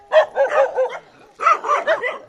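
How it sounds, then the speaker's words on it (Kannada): A dog in an Indian village barks close by in two quick bursts of three or four barks each, separated by a short pause. "ಹೊಸ್ತಾಗಿ ಬಂದೀವಲ್ರಿ, ಒದರ್ತಾವ ನಾಯಿ."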